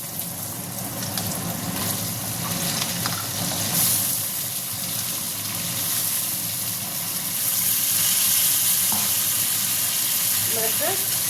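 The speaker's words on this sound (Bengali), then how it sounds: "এবার আমি যে উচ্ছেটা কেটে রেখেছিলাম সেই উচ্ছেটা দিয়ে দেবো" Potatoes and cut bitter gourd frying in a pan, a loud steady hissing sizzle that swells midway, with faint stirring and a few utensil knocks near the end.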